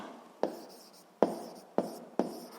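Notes being written down during a physics lesson produce four separate sharp pen or chalk strikes, each followed by a brief scratching stroke, spaced unevenly and close by, with no talking.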